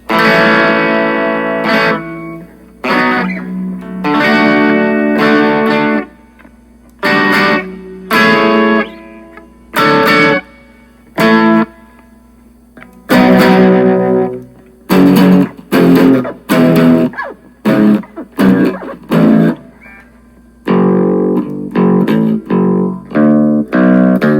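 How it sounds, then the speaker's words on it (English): An electric guitar through a BOSS Katana Mini X amplifier's reverb effect plays short phrases and chords drenched in reverb, notes ringing out and trailing into gaps of silence between bursts. "So here's what reverb sounds like."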